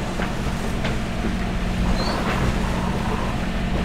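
A sailboat running under engine into a headwind on a choppy sea while crossing the Mozambique Channel gives a steady, loud wash of wind and water over a constant low engine drone, with no talking.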